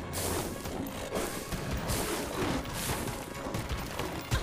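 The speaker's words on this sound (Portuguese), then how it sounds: "Esse aqui tem vários tipos de tiro diferentes." Dense, continuous rapid gunfire with crashing impacts and explosions from the mobile game Tomb Raider Reloaded, steady and loud throughout with no pauses.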